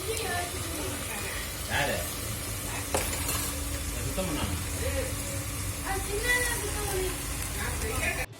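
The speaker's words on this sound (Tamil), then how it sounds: "எறா பார்த்தீங்கன்னா நல்லா வேகிற வரைக்கும் நல்லா வதக்கி எடுத்துக்கலாம்." Prawns sautéing in a hot pan for a prawn curry, a constant loud sizzle broken by scraping stirs of a spoon against the pan, with a voice talking over part of it.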